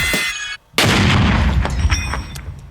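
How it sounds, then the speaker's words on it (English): A shaped charge explosion: a loud explosive blast erupts, then a second, heavier boom follows after a brief gap, with a long rumbling roar and crackling debris trailing off. "there was a huge release of energy in those explosions"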